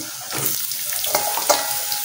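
Eggplant pieces go into a pan of potatoes frying with black cumin. The oil sizzles steadily and stirring scrapes through it, with a couple of sharper clinks near the end.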